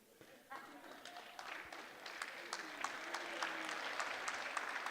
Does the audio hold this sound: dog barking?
no